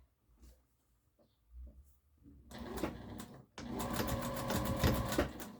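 Close, loud sewing machine stitches across a harvesting apron after a short back stitch, with a short burst of stitching followed by a longer continuous run after a few quiet handling sounds.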